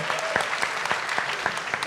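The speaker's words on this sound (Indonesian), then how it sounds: "Tepuk tangan lagi dong buat Zoya." A studio audience at a talk show gives brisk applause, a dense steady clatter of many hands for two seconds with a few louder claps rising above it.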